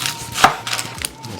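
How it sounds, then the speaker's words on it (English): A knife slices through an onion on a cutting board, giving a few crisp, close chopping taps with one sharper cut, alone and without talk. "Same as tomatoes, we will slice the onions."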